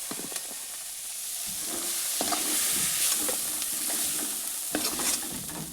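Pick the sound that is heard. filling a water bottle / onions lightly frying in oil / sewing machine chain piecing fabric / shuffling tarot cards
onions lightly frying in oil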